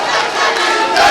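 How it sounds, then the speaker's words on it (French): A large assembly rising in a standing ovation, a loud burst of massed crowd cheering and applause that swells briefly toward the end. "Je vous demande de vous lever comme un seul homme et de l'ovationner."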